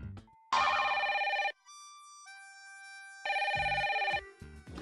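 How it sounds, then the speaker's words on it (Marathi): A telephone bell rings in two loud, sharp bursts with a quieter gap between them, close by and indoors. "मी म्हटलं ना फोन घे."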